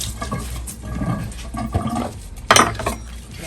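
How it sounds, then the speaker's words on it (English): Running water rinses fresh cilantro for chipotle chicken tacos in a kitchen, a close splashing flow with soft handling noises and a short louder gush partway through. "get the cilantro, wash it on off really good"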